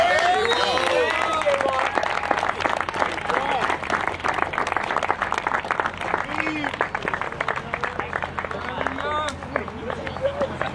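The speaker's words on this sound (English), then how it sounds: "let's have one more round of applause for our Panther seniors" A crowd applauds steadily for a senior pitcher at a Plymouth State baseball senior day ceremony. The clapping is dense and sustained over light background chatter.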